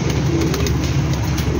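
Pigeons, a flock of Teddy pigeons, coo softly and repeatedly nearby in soft rounded calls, with faint traffic noise in the background and no talking.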